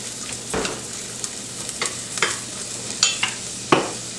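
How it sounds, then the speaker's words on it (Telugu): Onions frying in a pan for Indian-style Chinese fried rice give a steady sizzle, with a few sharp scraping stirs of a spatula spaced across it, close and fairly loud with no talking. "ఫస్ట్ ఇది వేయించుకుందాం అన్నమాట. ఇది కొంచెం వేగిన తర్వాత మనం వేరే కూరలు వేసుకోవచ్చు."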